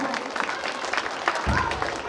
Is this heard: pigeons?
no